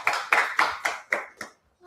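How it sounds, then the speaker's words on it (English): Applause for an author: about six evenly spaced, sharp claps ring out in a steady rhythm, then stop. "please give a round of applause for LaDawn."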